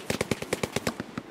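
Automatic gunfire in the World War II shooter Hell Let Loose: a rapid, steady burst of about a dozen sharp shots, close and loud, with no talk over it.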